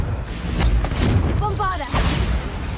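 A Confringo fire spell bursts out in a Harry Potter game, a dense, booming blast with crackling tails that fills the short moment, layered under spoken lines and other game effects.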